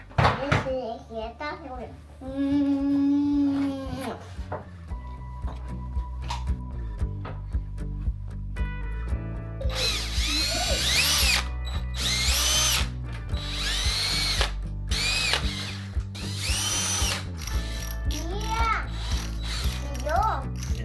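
A power screwdriver whirs in repeated bursts as screws are backed out while furniture is taken apart in a toddler's room, close and loud, with voices talking over much of it.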